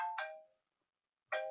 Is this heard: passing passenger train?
no